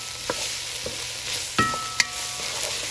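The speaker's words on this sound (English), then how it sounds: "we're going to give that a stir, and we're going to cook that tomato paste for a couple of minutes" Tomato paste sizzling in a soup pot for vegetable beef soup as it is stirred, a steady frying hiss broken by a few scraping spoon knocks, close and with no talking.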